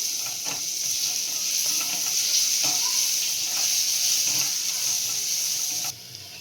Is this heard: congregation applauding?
no